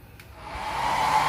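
Electric blower or hair dryer switched on for testing, a whirring airflow that rises steadily in strength and pitch over a second or so, close by with no voices.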